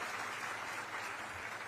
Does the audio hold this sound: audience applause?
yes